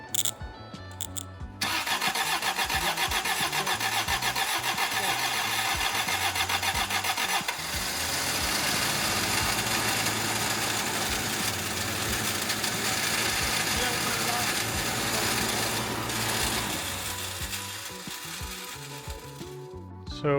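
A Toyota Celica engine, being built into a Kaido racer, cranks briefly and fires up for its first start, then runs loud and steady at a high idle that gradually settles lower before shutting off.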